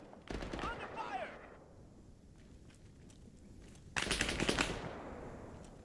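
Gunfire in the military shooter ARMA 3, two short bursts of rapid shots separated by a quieter stretch, with radio-style voices speaking around them.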